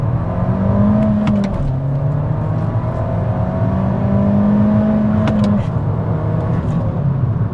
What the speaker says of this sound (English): We're gonna drop the clutch.